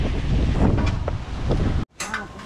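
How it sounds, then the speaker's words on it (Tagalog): Strong wind buffets the microphone in a loud, steady low roar outdoors near water, cutting out briefly near the end before returning. "Grabing hangin."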